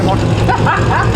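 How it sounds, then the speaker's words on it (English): A dog barks at a lively outdoor Sunday party, the bark loud and close but tangled in voices and nearby chatter, with traffic noise from cars in the background. "That's my dog."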